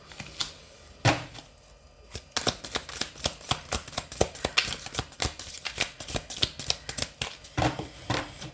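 Tarot cards are shuffled and drawn in a run of crisp, close card snaps and riffles, coming in quick irregular bursts with brief pauses between them.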